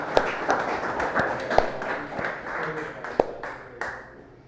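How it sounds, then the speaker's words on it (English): Scattered applause from a conference audience at a Bitcoin summer event in Montreal, a handful of separate claps with sharp taps standing out irregularly, fairly faint and thinning out toward the end. "let's all give a round of applause for Maxim."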